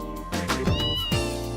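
A cat meows in the Trails in the Sky FC video game, two clear tonal meows with falling pitch, loud and up front over a soft steady game music bed, with no talk.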